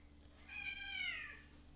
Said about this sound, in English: What's wrong with this cat, man?